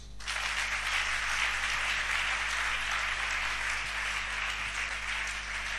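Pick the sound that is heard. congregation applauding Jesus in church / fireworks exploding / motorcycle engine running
congregation applauding Jesus in church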